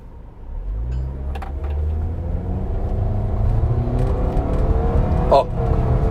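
A Toyota Avanza/Veloz accelerating in power mode with eco switched off. The engine drones loudly from inside the cabin and its pitch climbs steadily as the revs rise, with a brief voice in the background.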